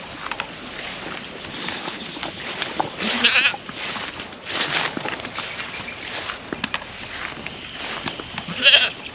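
Goats bleat intermittently amid outdoor farm ambience on a free-range pig farm, with a few calls closer and louder and some faint rustling steps.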